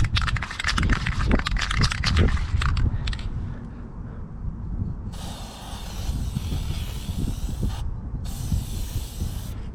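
An aerosol lube sprays onto a motorcycle chain in a few long hissing bursts, close and steady, over a background of rumbling noise.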